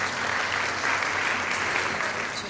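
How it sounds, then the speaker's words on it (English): A crowd claps steadily, a dense, even patter of applause that holds at full strength throughout the short moment. "Please give them a round of applause."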